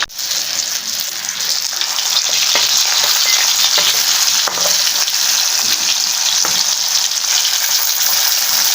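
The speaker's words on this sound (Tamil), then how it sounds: "வவ்வால் மீன் ஃபிஷ் ஃப்ரை ரெடி ஆகிட்டுருக்கு. சூப்பராக வந்துட்டுருக்கு பாருங்கள்." Pomfret (vaaval) fish fries in hot oil with a loud, continuous hiss and sizzle, steady throughout with faint crackles and no talking.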